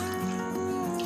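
Water poured into a large cooking pot to start sugar syrup for gulab jamun, two cups of it, heard as a steady close splashing trickle throughout the short moment with no talk.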